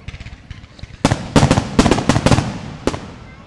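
Fireworks go off at a fair, a cluster of sharp, loud bangs and crackling bursts in quick succession after a quieter opening, then one last pop, heard from fairly close.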